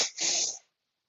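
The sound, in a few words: double sniff, exhaling through the nose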